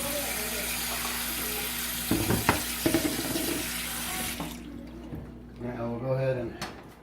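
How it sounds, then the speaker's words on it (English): Water poured from a tap into a pot holding two cups of rice, a steady rushing stream that stops partway, then a brief gurgle and splashing as the pot is handled, with a voice speaking briefly over it. "put 4 cups of water to the rice"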